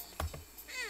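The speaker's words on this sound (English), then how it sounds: "I thought I heard a cat" A short, faint meow from a cat in the PS2 game The Fairly OddParents: Breakin' da Rules, a single brief cry under game sounds with a rising tonal sweep after it.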